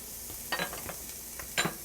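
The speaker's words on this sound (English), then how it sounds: "I'm heating up more oil in the pan. So there goes my celery" Celery dropped into hot oil in a pan, giving a soft steady sizzle with a few brief clattery bursts of stirring, fairly quiet and with no one talking.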